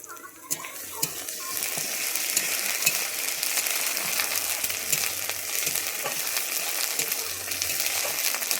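Ginger paste hits hot oil along with garlic and sizzles and crackles steadily and close, a continuous frying hiss with occasional stirring clicks and no voices.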